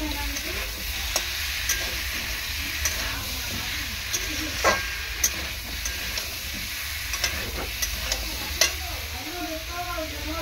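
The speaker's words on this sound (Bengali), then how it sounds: "3 থেকে 4 মিনিট ভালো করে কষাবো।" Pumpkin, potato and pointed gourd frying with spices for homemade labra sizzle steadily in a pan while a spoon scrapes and stirs at irregular intervals, close and continuous.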